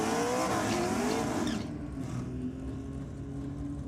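A 4.3 litre Chev-powered LJ Torana drag car roars loudly at full throttle as it launches down the strip, then the sound drops to a lower, steady engine drone.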